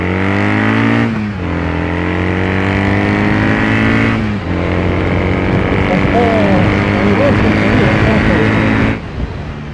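Kawasaki W800 parallel-twin engine with a 360-degree crank idling and revving nearby, a steady deep throb that rises and falls in pitch across several throttle blips.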